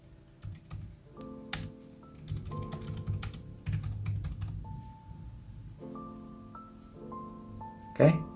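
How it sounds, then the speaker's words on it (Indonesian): Fingers tapping on the keyboard of a Samsung Chromebook 4 while typing in WPS, a fairly quiet, irregular run of light clicks, with a person talking over them. "Ini saya mengetik menggunakan aplikasi WPS."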